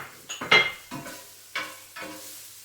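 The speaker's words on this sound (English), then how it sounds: "I'm just going to add the butter and let it melt a little bit. We're going to add the sausage." Sausage drops into melting butter in a frying pan, giving a few clattering scrapes and taps of utensils against the pan over a soft sizzle. Close and moderately loud, with no talking.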